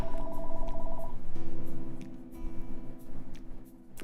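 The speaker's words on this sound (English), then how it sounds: "Is that a phone?" A telephone ringing in repeated electronic trilling bursts, loud and close, with its pitch pattern shifting partway through.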